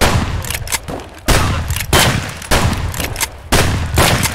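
Loud, close gunfire in the shooter game Escape From Tarkov, with several rapid automatic bursts separated by brief pauses.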